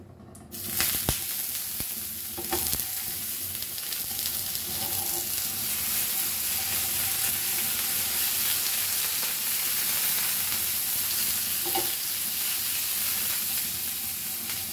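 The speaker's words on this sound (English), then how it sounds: "we want to just fry this nicely both the sides" Chicken sausages fry in a little oil with a loud, steady sizzle and hiss, broken by a few louder pops and spatters early on.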